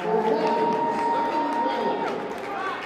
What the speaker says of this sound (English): Now New Trier getting a round of applause, doing an excellent job as they get the runner-up trophy there.